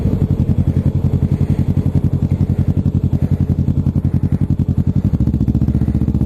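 Motorcycle engine running steadily on a test ride, a loud, continuous pulsing drone with rapid regular firing beats and a slight shift in pitch near the end, with no talk.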